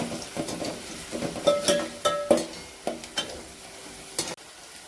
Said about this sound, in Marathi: कांदा छान असा परतून घ्यायचा आहे